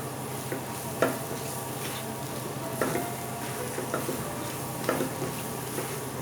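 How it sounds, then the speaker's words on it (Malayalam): Spice masala with white pepper powder roasting for a quail egg roast in a non-stick pan, a steady close sizzle punctuated by irregular scraping spatula strokes and soft taps, with no voices. "നന്നായിട്ടൊന്ന് ഇളക്കി കൊടുക്കാം. നമ്മൾ നോൺ സ്റ്റിക്കിൽ ഉണ്ടാക്കിയ കാരണം കൊണ്ട് അടി പിടിക്കില്ല."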